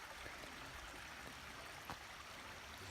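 Stream water flowing steadily beside a campsite on the Brown Mountain Trail in Shenandoah National Park, a quiet, continuous rushing wash with no talk over it.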